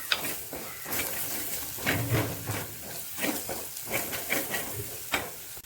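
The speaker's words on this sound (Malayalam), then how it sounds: "പൊടികളുടെ പച്ചമണമെല്ലാം മാറുന്നവരെ ഇതൊന്ന് വഴറ്റി കൊടുത്തിട്ടുണ്ട്" Spice powders sauté in a hot pan, giving a steady sizzling hiss broken by repeated scraping stir strokes close to the microphone, with no talk.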